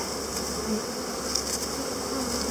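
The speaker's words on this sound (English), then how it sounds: "Okay, there's all our bees. They're all happy to get in." A steady, dense buzzing of many honeybees entering a hive after a package installation continues throughout, close and even in level, with no voices.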